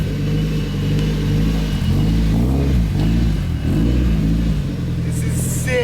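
A Mazda Miata engine, fitted with an old clutch, runs under its own power for the first time, idling and revving with a steady mid-pitched rumble, while voices talk nearby.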